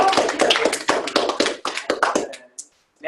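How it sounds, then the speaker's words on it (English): An audience at a graduate student seminar claps in a short burst of applause that thins into a few scattered claps before stopping. "We can do one more round of applause"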